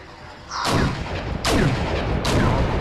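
Missile launches and heavy gunfire in the Cold War strategy game Wargame: European Escalation, three loud booming blasts in succession with rumbling tails, no talk over them.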